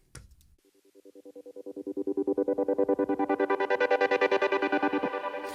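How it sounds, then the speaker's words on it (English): Iconic synth pad with tremolo swelling in from quiet to a steady pulsing chord, its volume throbbing rapidly and evenly throughout, heard alone at moderate level. "this is actually a pad from Iconic"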